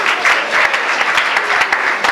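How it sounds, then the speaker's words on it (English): A youth seminar audience at a ministry event gives steady, dense applause, loud and sustained throughout with a slight pulsing swell. "Can we clap for her, please?"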